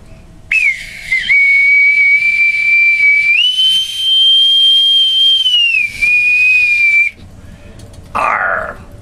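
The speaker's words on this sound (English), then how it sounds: "I'm going to pipe him aboard with my authentic bosun's whistle." A bosun's whistle is piped aboard in several long, shrill, steady tones, rising to a higher held note and then falling back, loud and close, with brief gaps between the calls.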